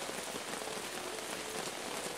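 Steady, dense patter of heavy rain drumming on a camping tarp during a wild camp in the woods, a close, even hiss with no talking.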